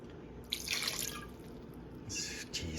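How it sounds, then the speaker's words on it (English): Soy sauce is poured onto seasoned chicken in a kitchen, giving a quiet close trickle with two short splashy bursts separated by a pause. "we're gonna just add a little bit of soy sauce to this"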